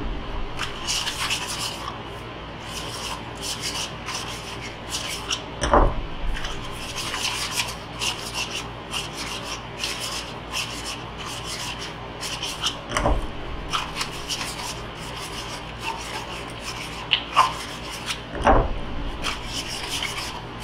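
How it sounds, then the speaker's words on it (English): Small PVC pipe pieces are sanded by hand, giving a steady close rasping rub with rhythmic back-and-forth strokes and a few sharper knocks. "I'll go ahead and sand all these down."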